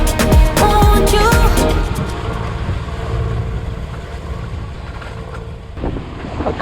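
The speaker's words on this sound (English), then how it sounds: "The wind's got up." Wind blowing across a sailboat on a shakedown sail, a loud steady rush buffeting the microphone with water and boat noise underneath, strongest early on and continuing throughout.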